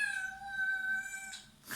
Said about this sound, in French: Ah, c'est mon chat, désolé.